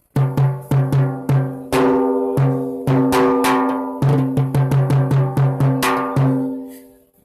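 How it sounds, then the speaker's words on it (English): Rapid, ringing hits on the smaller hembra head of a Meinl Professional Series bronze timbale in an uneven rhythm, bright and metallic with short sustain, some strokes louder and flams mixed in, played solo nearby. "And here we got the hembra head"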